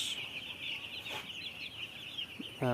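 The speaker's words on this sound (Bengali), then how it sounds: "গরমের জন্য হয়তো মুরগি একটু কম খাবে যেহেতু সারাদিন গরম পড়ছে সেজন্য মুরগি হাঁপাচ্ছে" Broiler chicks in a poultry shed, around the third day of rearing on a hot day, cluck and chirp in a close, busy flock, with a steady wash of barn noise behind them.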